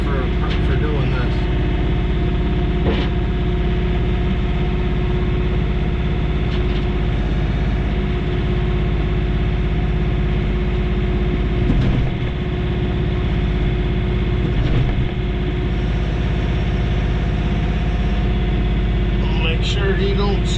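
A John Deere 3039R compact tractor runs loudly and close while moving dirt with a dump wagon, a steady diesel drone with slight load changes throughout.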